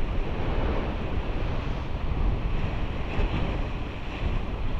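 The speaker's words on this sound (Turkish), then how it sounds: "Çünkü hava rüzgarlı." Strong wind buffets the microphone in a steady, loud rumble on a seashore at night while fishing, with the wash of surf blending underneath.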